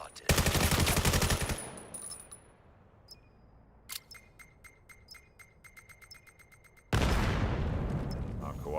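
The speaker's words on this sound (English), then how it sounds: "now worried about the gunshots they're hearing behind them" Rapid bursts of automatic gunfire ring out in the VR shooter VAIL during a competitive playoff match. A loud volley opens the sound, quieter scattered shots follow, and a second loud burst closes it.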